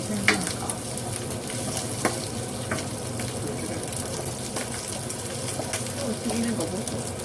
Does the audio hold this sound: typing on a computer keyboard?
no